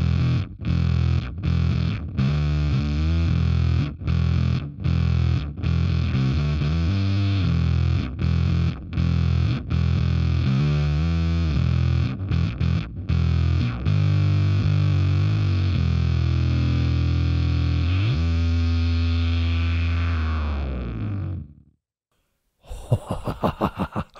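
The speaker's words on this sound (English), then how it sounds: "This is a really fuzzy, thick low-end tone, I think, the synth tone" A fuzzy, thick low-end synth bass tone played through distortion and effects, loud and continuous with rhythmic choppy articulations for about twenty seconds, then a brief gap and a few final stuttering hits.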